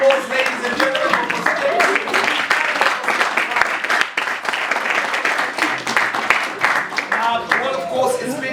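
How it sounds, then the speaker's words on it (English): Applause from an audience at a school quiz competition, a continuous spread of many hands clapping at close range, with voices talking over it throughout. "a round of applause, ladies and gentlemen"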